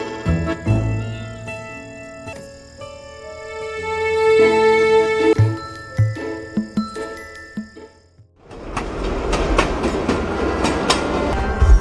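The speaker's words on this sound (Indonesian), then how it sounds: "Namun mendadak kereta berjalan dan mereka pun terpisah." A train starts to move in a film scene: metallic clanks and ringing tones give way to rising rumbling, clickety-clack rolling that grows louder and closer.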